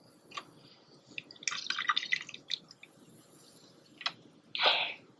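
Inside the engine of an abandoned 1929 GMC truck, liquid drains away with faint scattered drips and trickles, a brief louder gurgle near the end, all quiet and close.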